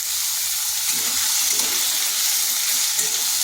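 Diced papaya seasoned with salt and a pinch of turmeric fries lightly in a pan, giving a continuous close hiss and sizzle with faint stirring scrapes.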